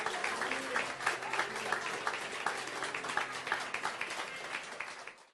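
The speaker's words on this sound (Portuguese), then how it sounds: "Você pode aplaudir o Senhor?" A church congregation applauds in steady, fairly soft clapping that runs on evenly before tapering off at the end.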